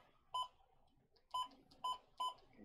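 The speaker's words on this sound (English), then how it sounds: "You hear the button beeps and everything" An old weather radio's buttons give four short electronic beeps, one then a pause and three more in quick succession, clear and near against a faint background hiss.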